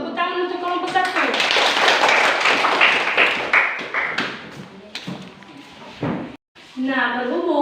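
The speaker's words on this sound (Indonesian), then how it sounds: "Tepuk tangan untuk kelompok 1" A school classroom claps for a student group after its presentation, a burst of clapping lasting a few seconds, framed by voices speaking before and after.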